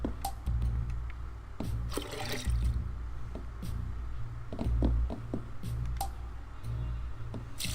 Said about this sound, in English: I'm gonna water this plant.